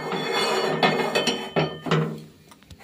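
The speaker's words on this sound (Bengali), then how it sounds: "এই যে ফ্রাই প্যানটা বসিয়ে দিয়েছি এখন।" A frying pan set down on a home kitchen stove, with several metallic clanks and knocks spaced unevenly, fairly close, ending in a quieter tail.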